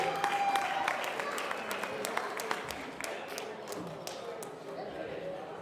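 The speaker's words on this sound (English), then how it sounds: "Big round of applause, ladies and gentlemen." A crowd applauds steadily for several seconds at a boxing hall of fame event, dense clapping filling the room with a few whoops and voices mixed in.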